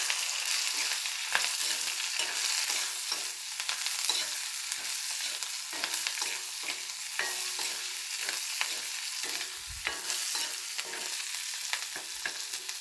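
Ingredients for neem flower kuzhambu, including ginger, sautéing and being stirred in a hot pan, a steady close sizzle broken by repeated scraping stir strokes, with no voices.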